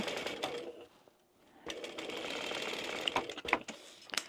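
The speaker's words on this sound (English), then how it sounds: "I'm just going to sew straight at what my zipper foot allows, which is about a 6." A sewing machine with a zipper foot stitches a zip pouch in short bursts of rapid mechanical chatter, pausing briefly in between, close and fairly soft.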